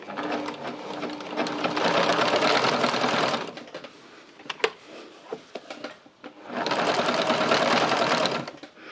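A sewing machine runs in two steady bursts, stitching backwards over a big tear in a pair of jeans, with a short pause of quiet handling clicks between the runs.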